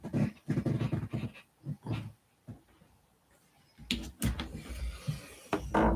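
A puppy pants and whimpers close by in short, uneven bursts, with a quieter pause in the middle before the breathy panting picks up again.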